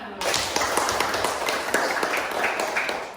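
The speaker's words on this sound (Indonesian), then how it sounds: "Tepuk tangan untuk kita semua" Classroom of students clapping hands together in a quick burst, dense overlapping claps with sharp taps near the mic, fairly steady for a few seconds.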